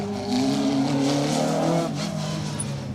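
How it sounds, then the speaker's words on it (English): A Citroen AX rally car drives hard on a stage of the Rali Menai Stages, its engine droning loudly with a steady, slightly rising pitch before easing off, with no commentary over it. "Gareth Roberts and Harry Stubbs in that Citroen AX, still going strong."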